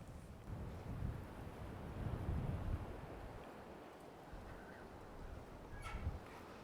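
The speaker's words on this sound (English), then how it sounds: "It's very windy" Strong coastal wind at Kalbarri buffets the microphone in uneven, rumbling gusts, swelling and easing over a continuous rushing background, fairly loud and close.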